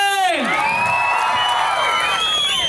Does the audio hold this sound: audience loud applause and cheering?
yes